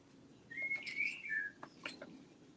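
Faint birds chirp and whistle in the background of a quiet indoor room, with a few short thin calls and tweets spread over a couple of seconds and a low steady murmur underneath.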